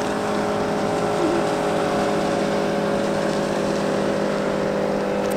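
A motorboat drones on a lake in Finland. Its engine holds a steady, fairly close hum for the whole stretch, with no voices.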